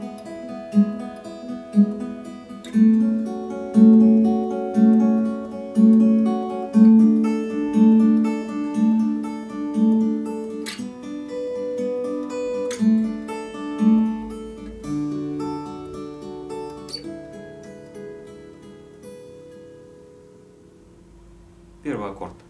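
Guitar playing the bridge of a song, plucked chords ringing in a steady repeating rhythm, clear and close, slowing and fading out near the end.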